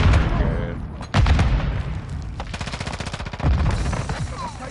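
Rapid automatic gunfire from the video game Modern Warfare 2, bursts of sharp repeated shots with a heavy boom near the start, loud and close, mixed with battle noise and radio-style voices.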